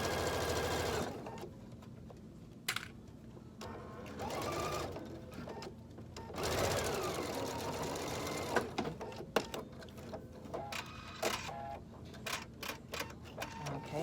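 A sewing machine stitches a zipper onto a color-blocked cork handbag, running in steady bursts of motor whir with brief pauses between runs, close and fairly loud throughout.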